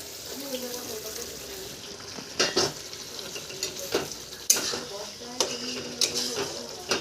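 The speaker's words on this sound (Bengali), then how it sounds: "এবার ভেজে রাখা চিংড়িটা দিয়ে দেব" Fried prawns stirred into a sizzling pan of prawn malai curry, with a spoon scraping and clinking against the pan in irregular strokes over soft frying, close and fairly quiet.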